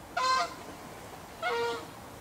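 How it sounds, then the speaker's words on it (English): Two loud honking calls ring out from waterfowl on a park lake at Deer Lake in Burnaby, Canada, each call a short harmonic burst, separated by about a second of quiet background. "Oh wow, that's a lot of duck."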